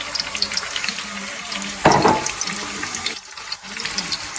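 Onions tipped into a pan of sizzling curry leaves, giving a sudden burst of loud hissing and crackling that settles into steady frying sizzle, with brief clatter from a utensil, close and with no talking.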